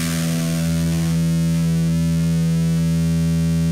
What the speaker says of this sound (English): a distorted one lasts a lot longer and at a much more similar intensity to the initial attack